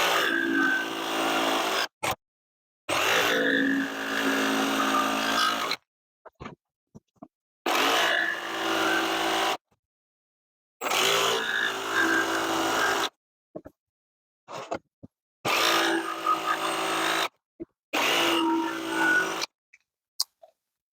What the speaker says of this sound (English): Let me cut out the other notches and we'll try to squeeze it in place